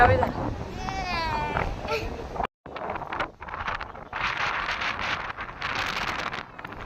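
A young child cries and wails in strong wind on an outing by the water; loud, steady wind rumble buffets the microphone throughout, with the crying near and strained over it.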